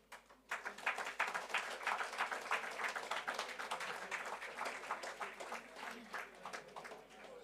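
Audience applause fills a gala dinner for a water and environmental sustainability conference, a dense steady clapping that starts abruptly and carries on strongly for several seconds.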